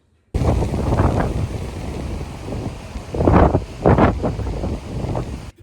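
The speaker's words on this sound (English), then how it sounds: "the wind was terrible, and even though I had a microphone with me, it was just powerless against the blast of the wind" Strong gusts batter a microphone outdoors at a hillside garden, a continuous loud rumbling roar that surges in two harder blasts near the end, with no voices.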